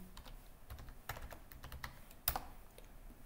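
Fingers tap quickly on a computer keyboard at close range, giving quiet, irregular clicks with a few sharper keystrokes, including one louder tap near the end.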